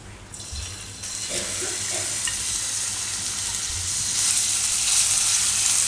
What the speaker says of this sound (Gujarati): તેલમાં લસણ થોડીક વાર શેરવી લેવું આ રીતે